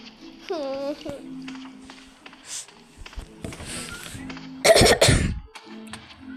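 A short burst of coughing near the middle, loud and close, amid scattered voices and background sounds from the horror game Doors.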